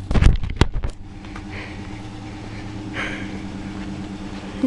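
A Dodge Challenger R/T Hemi with custom mufflers, started by remote start, fires up with loud sharp bursts, then settles into a steady deep burbling idle close by.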